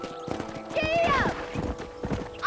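A horse gallops with rapid, close clip-clopping hooves and lets out a whinny in the video game Red Dead Redemption, while a voice talks over it.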